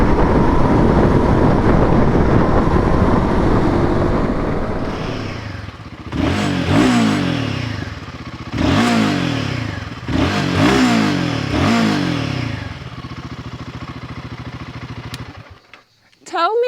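A Royal Enfield Guerrilla 450 roadster's engine revs hard in several sharp, rising bursts, each climbing and dropping back, loud and close with wind rush between and a final brief clatter.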